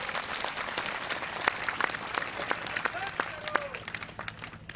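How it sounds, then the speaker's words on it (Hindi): Scattered, uneven clapping rises from a crowd at a public rally in Indore for a foundation-stone ceremony for development works, with voices mixed in beneath the sharp claps. "तालियों की गड़गड़ाहट"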